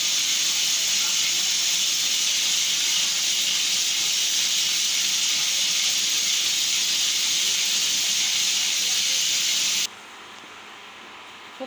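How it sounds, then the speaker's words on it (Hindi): Loud, steady high hiss of steam escaping from a pressure cooker cooking beef paya (trotters), continuous for about ten seconds before cutting off sharply to near quiet. "इसके लिए मैं कुकर बंद करके रख दूँगी इसको"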